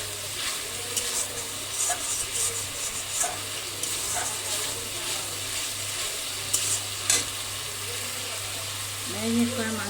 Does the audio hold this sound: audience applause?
no